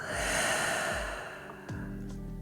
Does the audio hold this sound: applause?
no